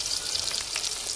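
Chopped onion frying in oil for mutton biryani, a steady close crackling sizzle that holds at an even level throughout with no voices.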